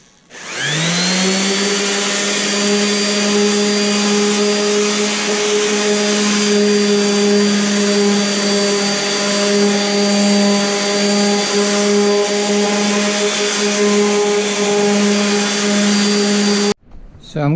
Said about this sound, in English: Now I'm going to use a random orbit sander with 320 grit sandpaper.